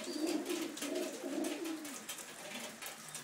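Pigeons coo in a loft in Puna, Hilo, Hawaii, a soft rolling series of low coos close by, fading slightly toward the end.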